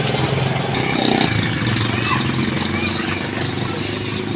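Motorcycle engine running steadily nearby during heavy rain, a continuous low rumble with some clatter under the hiss of rainfall, with voices faintly in the background.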